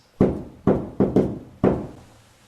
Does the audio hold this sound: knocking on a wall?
yes